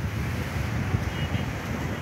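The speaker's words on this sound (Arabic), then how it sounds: "البحر عالي، الموج عالي" Strong wind roars over the Alexandria corniche as high seas surge during an autumn storm, a steady, dense blustery rush with wind buffeting the microphone and no voices.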